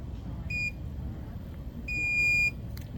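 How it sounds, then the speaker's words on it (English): Two electronic beeps from a Gravograph M20 engraving machine, a short one followed by a longer tone, clear and close over a low background rumble. "Press run, wait for the machine to beep."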